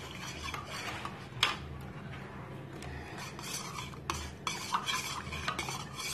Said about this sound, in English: 1 teaspoon of honey. Yeah. And there we go. Stir it very well.